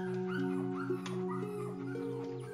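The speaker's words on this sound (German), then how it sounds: "Dann fangen einige der Welpen an zu raufen." Puppies whimper and yip in short, high, wavering cries over a steady soft musical background with no talking.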